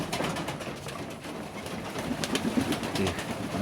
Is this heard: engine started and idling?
no